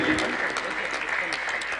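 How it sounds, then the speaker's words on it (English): A crowd at the Mangaluru Lit Fest applauds the speakers as a session ends, a continuous patter of many hands under a voice that carries over the clapping. "Can you have a huge round of applause for Dr. Koenraad Elst and Jaganathan, ladies and gentlemen"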